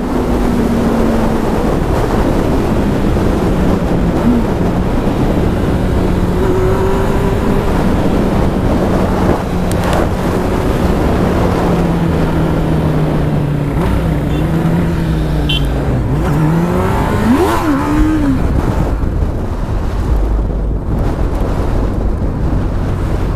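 Car engine with its exhaust removed, run hard around a curve and sliding sideways, giving a loud continuous raw drone with rising and falling revs, blended with heavy wind noise on the microphone.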